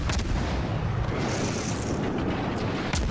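Naval guns on a Benson-class destroyer in World of Warships fire amid a steady roaring rumble of the sea battle. Sharp gun reports crack near the start and again near the end.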